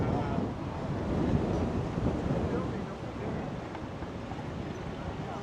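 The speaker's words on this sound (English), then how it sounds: "It got windy." Gusty wind buffets the microphone during an outdoor bike ride through Washington, D.C., a steady low roar with rumbling surges that stays loud from start to finish.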